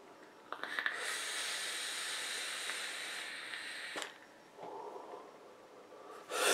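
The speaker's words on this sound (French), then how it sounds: "On fait plutôt une belle vapeur," Exhaled vapor from a Damn Vape Fresia RTA atomizer run at 25 watts with the widest airflow, a long soft breathy hiss lasting several seconds, close and fairly quiet, followed by a shorter second puff.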